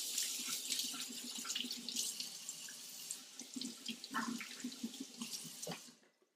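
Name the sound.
rinsing tomatoes under running tap water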